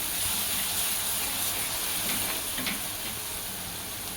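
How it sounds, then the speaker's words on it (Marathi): Ginger, garlic and green chilies sauté in a pan with a steady, even frying sizzle throughout and a few faint stirring scrapes. "आपले अद्रक, लसूण आणि मिरच्या चांगला परतून घेऊया"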